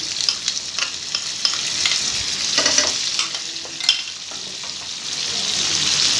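Finely chopped medium onions sizzle steadily in hot oil in a pan, a loud continuous frying hiss with occasional stirring scrapes and pops throughout.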